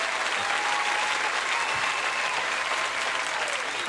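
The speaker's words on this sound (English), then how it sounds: "we have a clap soundboard for a button" Canned applause from a clap soundboard button on a talk show, a dense, steady burst of many hands clapping, loud and close for about four seconds with no voices over it.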